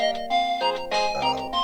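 A phone ringtone sounds in the visual novel Steins;Gate, a bright synthetic melody of stepped electronic notes signalling an incoming email, clear and close with no voices over it.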